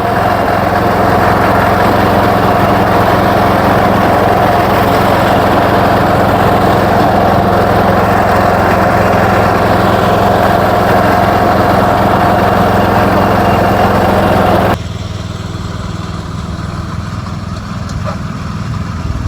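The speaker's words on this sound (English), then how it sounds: "I find with this tractor, 3rd gear works really well for me with this." A John Deere 210 garden tractor drives in third gear, its small engine giving a steady, loud, close drone with a constant pitch that abruptly drops to a quieter, softer running sound near the end.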